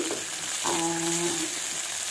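Steady oily sizzling of crab frying in oil, with a brief low tonal hum partway through.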